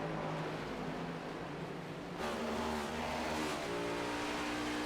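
A race car in an HTL Cup Series race at Michigan accelerates away from pit lane, its engine droning loud and steady, then swelling with rising revving tones partway through as it pulls out, with a dense wash of track noise behind.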